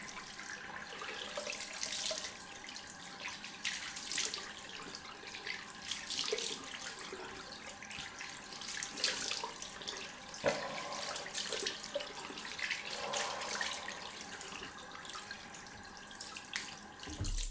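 A bathroom tap runs steadily for a cold-water rinse after a wet shave, a soft continuous splashing stream with small fluctuations, heard alone at low level throughout.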